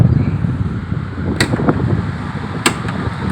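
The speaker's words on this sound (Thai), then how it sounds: "ตอนนี้เราก็มีพัดลม" An electric fan on its first speed setting blows hard, giving a steady close whoosh of rushing air, broken by two sharp clicks partway through.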